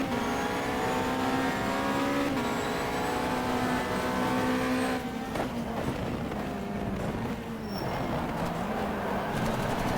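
Race car engines in the racing game GTR2, driving in a European 360 Rookie Cup event, drone loudly and continuously with shifting pitch as gears change and cars run close together, alone with no talk.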